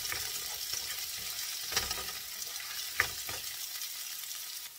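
Chopped garlic sautés in olive oil for a chicken feet dish, a steady close sizzle with a few soft scraping stirs and no voices.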